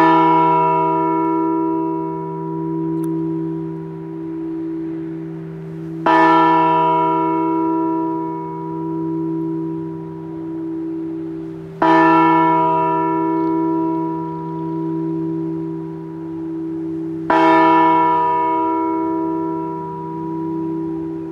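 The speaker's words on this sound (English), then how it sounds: "I'm going to ring the bell now four times." The West Virginia Liberty Bell tolls four times in remembrance, each loud, clear strike evenly spaced about six seconds apart and left to ring out in a long humming decay, with no talk over it.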